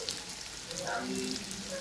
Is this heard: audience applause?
no